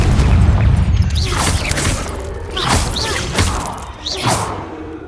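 Explosive blasts from the Confringo fire spell in Hogwarts Legacy, cast inside a cave: a loud booming impact with crackling debris, then several whooshing bursts rolling through the space.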